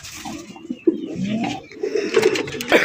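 A fancy racer or Giribaz pigeon coos inside its cage, a few soft, throaty, rolling calls close by, quiet and alone.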